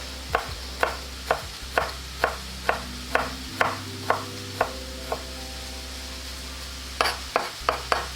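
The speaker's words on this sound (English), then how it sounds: "So now I'm going to chop my garlic." A knife chops garlic on a cutting board in a steady, even rhythm of crisp taps, with a pan sizzling and a low hum underneath.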